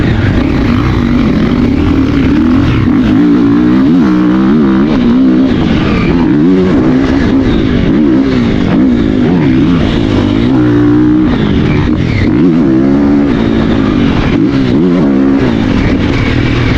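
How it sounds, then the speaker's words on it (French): A Triumph 450cc motocross motorcycle roars through laps on a dirt track, its engine loud and continuous with rising and falling revs as the rider accelerates and backs off, close-up with no voices. "on part faire 2 tours avec Ricky"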